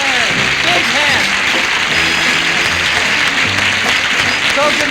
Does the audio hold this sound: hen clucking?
no